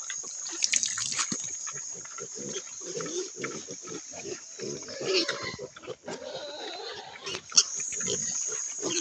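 Native pigs feed noisily up close, with wet chomping, slurping and grunting throughout, along with splashing liquid and a constant high insect or machine whine.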